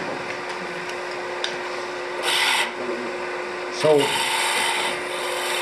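A parting tool cuts a small chamfer on a lathe, giving a steady machining hum with two louder rasping scrapes partway through, near and continuous; someone says a single brief word.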